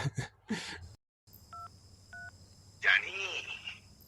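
Two short two-tone telephone keypad beeps sound between bursts of talk, close and clear, followed by a voice speaking over a low background hum.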